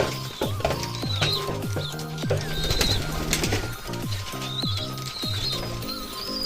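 High flyer pigeons coo close by in repeated low, rolling calls, with light chirps and fluttery background noise around them and no talking.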